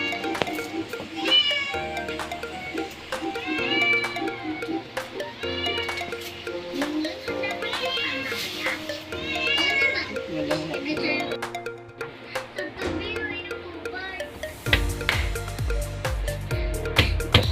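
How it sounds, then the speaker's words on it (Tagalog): Several pet cats meowing repeatedly while waiting to be fed, their calls overlapping against kitchen background noise and low sounds, close and fairly loud throughout. "Nakaabang ka agad yung mga alagang pusa."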